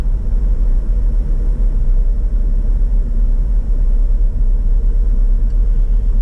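Car driving on the M-13 North highway, a loud continuous low road and engine rumble from inside the vehicle, steady with no speech.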